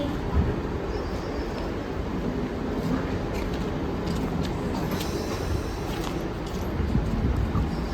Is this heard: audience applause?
no